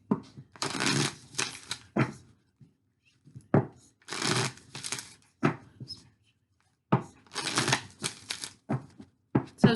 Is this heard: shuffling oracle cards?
yes